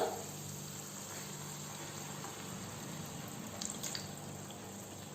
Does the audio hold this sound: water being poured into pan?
yes